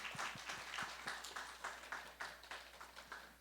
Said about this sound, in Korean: 박수로 환영해 주시겠습니다